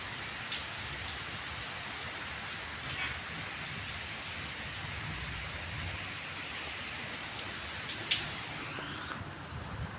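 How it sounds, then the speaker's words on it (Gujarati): Steady, dense rainfall hissing continuously, with a few faint sharper drips standing out; no voices. "વહેલી સવારથી ધોધમાર વરસાદ ચાલુ"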